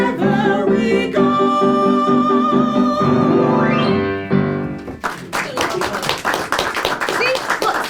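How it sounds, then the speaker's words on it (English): After a sung passage with talking, an audience breaks into brisk, crisp applause. The many overlapping claps are close and fairly loud and run steadily to the end. "Look, they're clapping for you."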